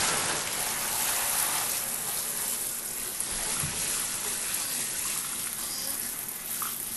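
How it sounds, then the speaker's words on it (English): A baby splashes water in a bath, giving a continuous, fairly loud wash of sloshing and dripping close by for several seconds, with no clear talk over it. "He doesn't like the splashes on his face."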